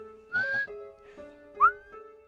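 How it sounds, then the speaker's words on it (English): In the Deltarune video game, two short whistle tones sound over a quiet musical backdrop: the first a brief rising whistle, the second a sharper upward-sweeping whistle about a second later. "Why was there just a whistle sound effect?"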